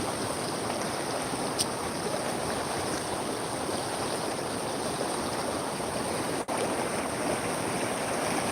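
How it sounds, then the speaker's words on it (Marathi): A river in flood after heavy rain rushes past in a constant loud roar of water, steady and close, with a brief click partway through. "पाण्याचा विसर्ग चालू आहे एक पूर चालू झाला आणि पाणी भरपूर प्रमाणात आलं आहे"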